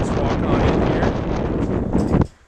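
Strong wind buffets a microphone outdoors in open, sunny country with mountain views, a loud, roaring rush of gusts that cuts off abruptly near the end.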